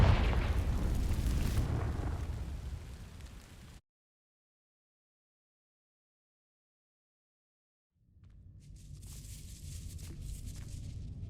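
Blasts from a Confringo fire spell in Hogwarts Legacy: a loud roaring explosion fades out into silence, then a second fiery burst rumbles back in near the end.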